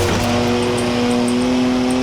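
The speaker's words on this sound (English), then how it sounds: "3-litre straight six, 335 horsepower, 2 turbos, as much sideways action as you like" A 3-litre twin-turbo straight-six car engine in Forza Horizon 4 holds a loud, steady drone at constant revs, close and continuous, with no talk over it.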